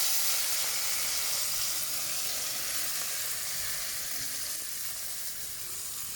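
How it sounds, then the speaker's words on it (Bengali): Water spinach, onion and egg frying in hot oil give a steady, bright sizzle and hiss that runs evenly throughout without pause. "বন্ধুরা, এখানে আমি সব উপকরণগুলো এবার তেলে দিয়ে দেব।"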